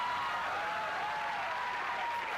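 A studio audience applauds at the reveal in the Newhart sitcom finale, a dense, steady wash of clapping that holds at an even level throughout.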